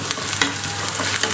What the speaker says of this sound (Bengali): সেই জন্য আমি বেরেস্তাটা ভেজে নিচ্ছি।